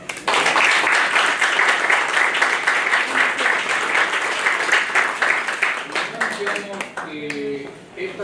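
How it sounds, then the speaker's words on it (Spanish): Sustained audience applause greets a guest lecturer at a labour-law arbitration conference, dense steady clapping for about seven seconds before it thins and fades, with a few voices surfacing at the end. "a quien recibimos con un fuerte aplauso"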